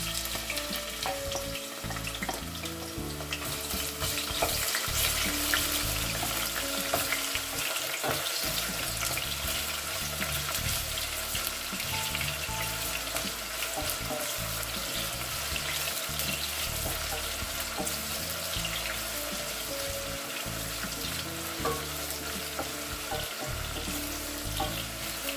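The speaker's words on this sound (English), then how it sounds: "So you want to add some oil, some vegetable oil in the pot, not too much. You put your onion inside." Onions fry in a little vegetable oil in a pot, giving a dense, steady sizzle with a bright watery hiss that runs unbroken at an even level, close by with no voices.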